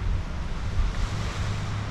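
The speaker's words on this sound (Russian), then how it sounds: "Волны так сильно клево." Ocean waves break on a beach in Phuket on a rainy day, making a continuous roaring wash of surf with wind buffeting the microphone and no speech.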